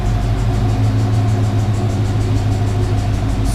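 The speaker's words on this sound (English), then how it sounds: "as you can hear, it's running. Sounds like we got a little bit of an exhaust leak." A car engine idles steadily up close, a low rumble with a rapid ticking puff from a leaking exhaust.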